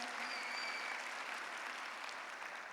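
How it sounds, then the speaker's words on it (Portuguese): A church congregation at a Sunday service applauds, giving a sustained, even wash of clapping that sounds somewhat distant and soft throughout. "E você pode dar um aplauso ao Senhor pela vida dele"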